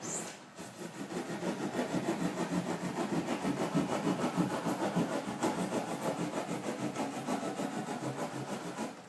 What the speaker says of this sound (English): you want to use your keyhole saw or drywall saw, whatever you want to call it, and just drive it right in there